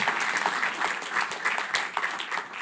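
A church congregation claps during a Sunday service, warm and dense applause from many people that holds steady at an even, moderately loud level throughout.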